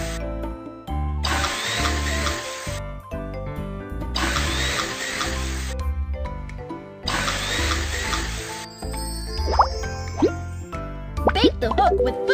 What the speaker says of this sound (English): First, drill some holes on the ice.